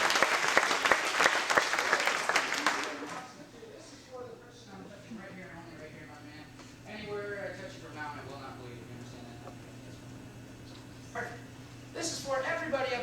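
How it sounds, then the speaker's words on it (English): Audience applause erupts at a high school senior all-nighter event, loud dense clapping for about three seconds that cuts off, followed by a host talking over a quieter room with a brief swell of noise near the end. "Big round of applause for everybody up here in the first place."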